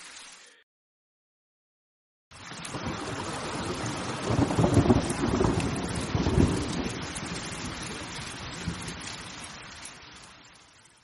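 Heavy rain and rolling thunder on a stormy night, loud and steady after a brief quiet gap, with deep rumbles swelling in the middle and a dense hiss of downpour throughout.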